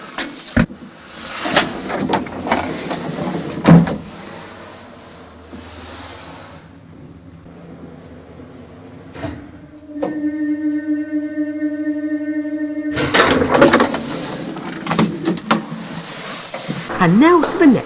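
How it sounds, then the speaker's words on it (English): A lift in Giessen gives a loud levelling sound: a steady, buzzing motor whine that holds for about three seconds, framed by clunks and rattles of doors and car movement before and after, with no voices. "which has a really nice loud levelling sound"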